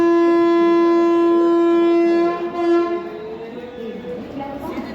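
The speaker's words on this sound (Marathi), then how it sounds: "नऊ वाजून अठ्ठेचाळीस मिनिटांनी मिरज जंक्शनवरून आपली कोयना एक्सप्रेस निघालेली आहे" The Koyna Express at Miraj Junction sounds a long, loud, sustained horn blast lasting about two seconds, then fades into a rumbling train and platform noise.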